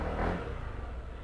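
A candy red Kymco Venture ADV motorcycle engine with an old throttle body revs close by, a brief loud surge that eases back to a steady idle.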